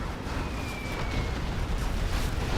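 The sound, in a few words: explosions in a strategy video game battle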